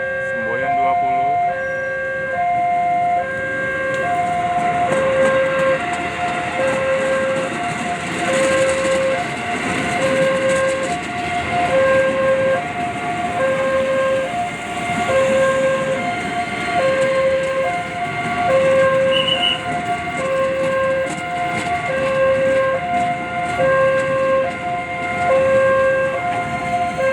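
Commuter and express trains pass the Tanah Tinggi level crossing with a loud, continuous rail rumble, while warning tones at the crossing repeat in a steady pattern throughout.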